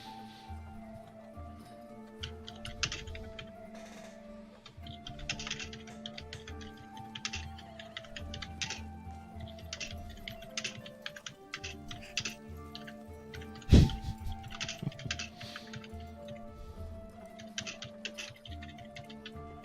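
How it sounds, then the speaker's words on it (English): Rapid, frantic clicking of a computer keyboard, close and fairly quiet, with dense irregular keystrokes throughout and one sharper knock partway through, no talk over it. "Frantic typing."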